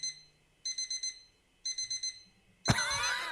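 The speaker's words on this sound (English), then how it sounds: "Can you turn your alarm off your phone?" A phone alarm beeps in two bursts of rapid four-note chirps, moderately loud and alone, before a sudden burst of broadband noise cuts in at the end.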